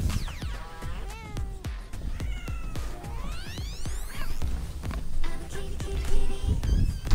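Cat meows inside the Fortnite video game, several rising and falling calls standing out over a busy mix of clicks, impacts and other game sounds.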